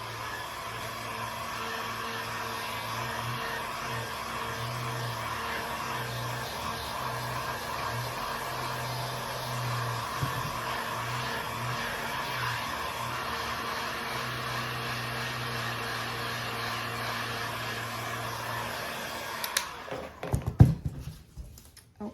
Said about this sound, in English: Let me hit that with the dryer just a second before I put my transfer on.